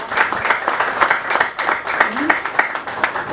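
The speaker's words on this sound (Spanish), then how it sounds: "Un aplauso para esos trabajadores" Applause from an audience for a city's municipal sanitation workers, a dense, steady patter of many clapping hands at moderate loudness with some voices mixed in.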